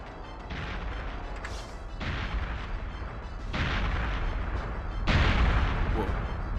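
Explosions in a retro first-person shooter game, a continuous loud rumbling barrage with heavier booming bursts swelling roughly every one and a half seconds, growing stronger toward the end.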